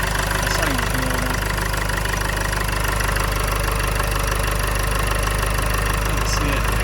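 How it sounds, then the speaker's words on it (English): A Land Rover Freelander 2 engine idles steadily after an air intake upgrade, a constant low rumble with a mild knock that runs unbroken and close through the whole stretch, with faint voices in the background. "The engine is running"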